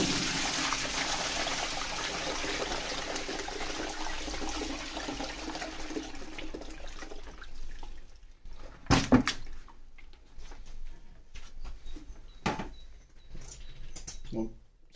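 Water poured to rinse stinking plant slurry off in a greenhouse, a broad steady gush for several seconds that stops, followed by scattered splashes and clatter with a few brief sharp knocks.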